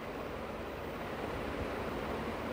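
Water poured into a pan of fried potatoes and masala for an Odia drumstick, potato and badi besara curry, giving a steady, close wash of hissing and bubbling noise with no talk.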